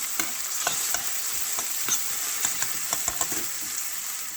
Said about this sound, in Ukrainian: Жаримо цибулю і болгарський перець.